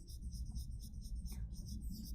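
Someone writes on a board, making faint, rhythmic scratchy strokes in short repeated bursts that stay quiet throughout.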